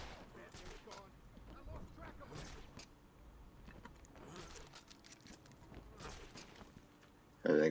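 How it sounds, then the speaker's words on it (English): Gunfire from the video game Batman: Arkham Asylum, a run of scattered shots and bursts mixed with footsteps and clatter, fairly faint and continuous throughout, with a louder tone jumping in at the very end. "Now they're shooting at me."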